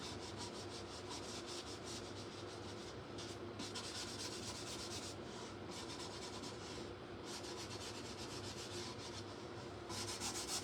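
Sandpaper rubs quietly over a vintage Santa stocking decoration in a continuous, close, scratchy rhythm of back-and-forth strokes, with a few brief pauses and no talking.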